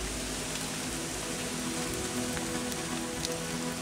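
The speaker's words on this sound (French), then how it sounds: "Il commence à pleuvoir, ça va être parfait pour les grenouilles." Rain begins falling outdoors, a steady close hiss of drops striking surfaces with a few sharper individual drips, continuous and even throughout.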